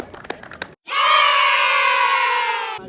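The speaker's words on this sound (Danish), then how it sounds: "Det ser ud til at det er stort bifald" Loud, sustained crowd roar and cheering from spectators at a sailing regatta, rising after a brief pause and holding steady for about two seconds.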